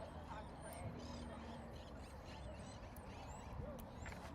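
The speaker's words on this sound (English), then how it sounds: "You could hear the birds and how quiet this place is" Faint bird calls, goose- or duck-like honks and chirps, drift over the low hum of a hushed high school football stadium, with quiet crowd murmur beneath.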